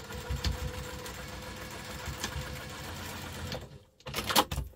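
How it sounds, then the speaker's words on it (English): Sewing machine stitching a double line on a crossbody bag, a close, steady mechanical whir and rattle that pauses briefly near the end before a short burst resumes. "I do a double line of stitching."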